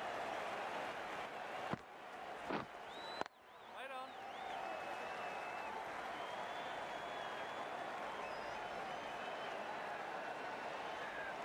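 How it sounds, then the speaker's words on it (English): Crowd at an amateur cricket match, a steady broad murmur of spectators with a few sharp knocks and claps early on, then continuing background noise with faint whistle-like tones, fairly distant and even. "The crowd's on their feet, probably hoping they can catch a six."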